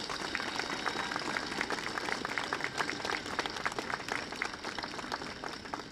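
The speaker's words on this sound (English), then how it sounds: "Can you give a round of applause for the artists?" A crowd claps for the sculptors at a statue unveiling at Belfast City Hall. The applause is steady and fairly distant, a continuous patter of many hands heard for several seconds with no talking.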